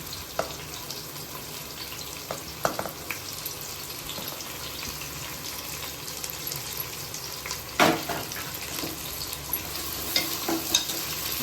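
Chopped large onions and green chilies sautéing in oil for a mushroom biryani give a constant soft sizzle with occasional stirring scrapes and knocks.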